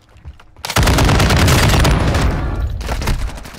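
Gunfire in the Warzone 2 video game, a sudden loud burst of rapid automatic shots that keeps going for a couple of seconds, then tapers off.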